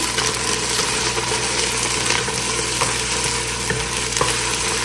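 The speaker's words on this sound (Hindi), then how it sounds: "और अब मैं डाल दूँगी इसमें 1 टेबलस्पून अदरक लहसुन का पेस्ट। थोड़ा सा करेंगे फ्राई" Ginger garlic paste fries with taro root and meat in a pan, a loud dense continuous sizzle with light stirring, no voices.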